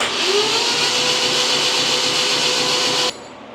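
A motor-driven pump priming the oil system of a 2.0L LNF Ecotec crate engine, a steady loud whirring whine running evenly for about three seconds before cutting off abruptly.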